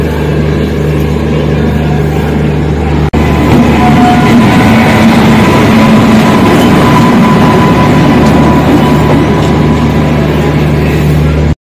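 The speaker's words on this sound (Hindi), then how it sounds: "हमारा लोगो जो बिहार संपर्क क्रांति को कैरी कर रहा है टिल न्यू दिल्ली, अब रिवर्सल पे जा रहा है" Locomotive of the Bihar Sampark Kranti express (Darbhanga to New Delhi) moving off for reversal, a loud continuous heavy engine rumble and rolling noise close by, with one sharp clank near the start, no speech.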